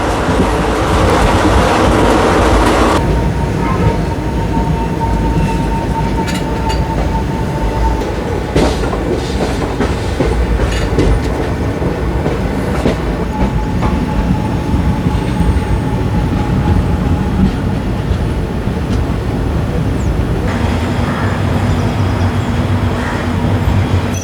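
The 16545 Yeshwantpur–Sindhanur Express, a diesel-hauled train, rumbles along loudly and continuously with clattering wheels, a faint drawn-out engine whine and occasional sharp clicks of rail joints, heard from aboard.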